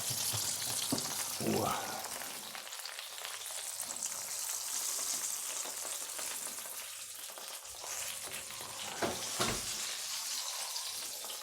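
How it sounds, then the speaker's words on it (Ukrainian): A stuffed pumpkin fresh out of the oven after about an hour and a half of baking sizzles and crackles in its pan at close range, with a few brief clattering handling sounds and no talking. "Вже він шкварчить аж."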